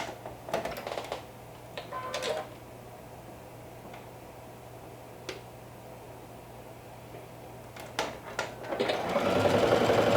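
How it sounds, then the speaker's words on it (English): A domestic sewing machine stitches a skirt hem in several short, separate bursts of mechanical whirring, each a few inches long, with quiet pauses between them and a louder, longer run at the end. "I'm going to stitch a few inches."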